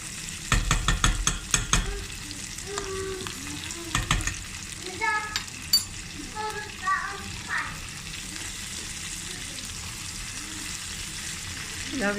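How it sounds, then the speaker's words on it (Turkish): Potatoes frying in butter in a pan, with rapid scraping stirs at first, then steady sizzling and crackling pops close by and no talking. "Patatesleri de çok böyle hırpalamadan hafif karıştıracağım."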